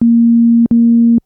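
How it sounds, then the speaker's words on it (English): A Yamaha DX11/TX81Z-style FM synthesizer plays a default sine wave patch on algorithm 1 with operator 2 turned up: two steady, clean, held low notes, each about half a second, with a short gap between them and no talk. "So there's that classic DX FM sound we love."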